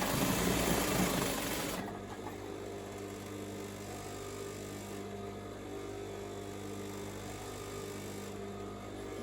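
Sewing machine stitching along fabric edges, a steady fast whirring hum running continuously, close and clear, with a louder burst of noise at the start and no talk.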